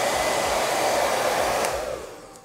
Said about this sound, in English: We'll finish drying the chicken with a hair dryer.